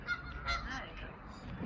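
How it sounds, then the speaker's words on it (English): A goose honks by a canal, a couple of short nasal honks close by over low outdoor background rumble. "Hello goose."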